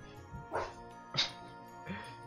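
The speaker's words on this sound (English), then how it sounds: "Dogs, people talking." Dogs bark in three separate short bursts spaced about half a second apart, moderately loud against a quiet background with faint voices underneath.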